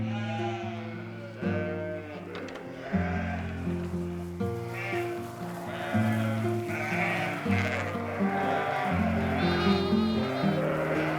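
A flock of ewes bleats continuously in overlapping, wavering calls. Several sound close and loud and others farther off, with little pause between them.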